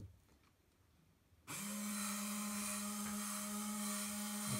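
Small electric motors in a Bruder Volvo A60H RC truck conversion kit switch on abruptly and spin with a steady, loud whine, holding a constant hum and overtones alone with no talk.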